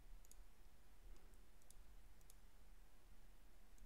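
Faint, sparse mouse clicks tick in short irregular bursts over a low hum while Pizza Connection is played at a computer.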